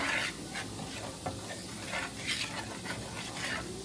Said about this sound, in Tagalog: I put salt. And fry the garlic.